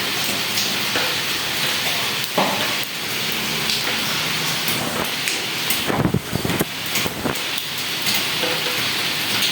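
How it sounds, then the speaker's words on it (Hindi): Heavy rain pours steadily outside, a dense continuous hiss with occasional louder splashes and gusts buffeting the microphone. "ज़रा बाहर देखिए, ज़रा बारिश की आवाज़ सुने, कितनी बारिश हो रही है।"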